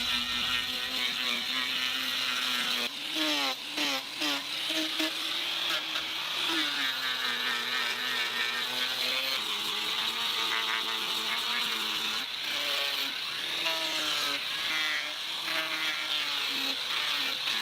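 A chainsaw trims protruding log ends flush against the wall of a handbuilt wooden house, its engine whining steadily with rising and falling pitch as the blade bites in and eases off, close and loud throughout.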